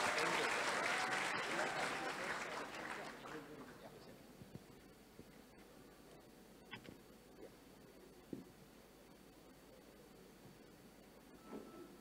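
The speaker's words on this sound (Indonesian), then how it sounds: "Mari kita berikan tepuk tangan yang besar" A large audience in a main hall applauds a presidential candidate at a special session: loud applause fills the first few seconds, then fades into a quiet room with scattered small noises.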